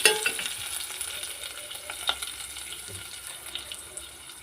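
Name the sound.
onion paste frying in a pan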